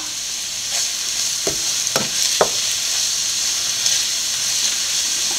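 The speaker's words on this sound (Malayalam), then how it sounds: "ഇനി കുറച്ച് കറിവേപ്പില ഇട്ട് കൊടുക്കാം" Curry leaves drop into a pan of sizzling chilli masala made with chilli powder and crushed chilli, setting off a steady loud frying hiss with a few sharp crackling pops and stirring scrapes.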